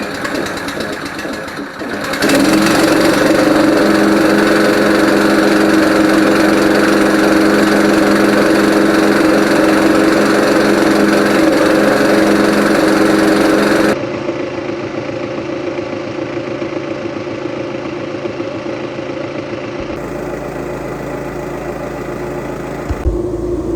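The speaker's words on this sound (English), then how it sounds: "I hope this engine cranks." Old gas engine on an air compressor built from junk parts, not started in years, running loud and steady with a continuous buzzing drone, then dropping to a quieter idle, with no talking.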